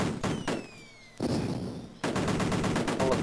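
Rapid bursts of gunfire from the Amiga game Cannon Fodder crackle in quick repeated volleys, loud and continuous, broken by a short quieter gap before the shooting resumes.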